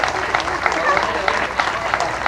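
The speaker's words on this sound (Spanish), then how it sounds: "¡aplauso!" Guests at a party applaud a doctor being introduced, individual claps popping out of a lively round of clapping, with voices mixed in underneath.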